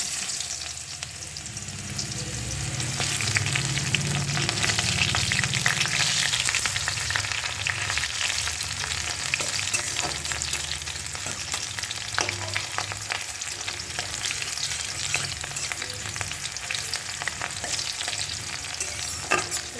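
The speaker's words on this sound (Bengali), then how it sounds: "সবজিটা একটু লাল লাল ভাজা হবে।" Vegetables fry with cumin and onion in a pan, giving a loud, dense, continuous sizzle with stirring and scraping throughout and no talking.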